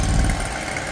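An AGD-460 Chinese mini skid steer with stand-on platform idling, its small engine giving a loud steady rumbling drone close by for a brief moment.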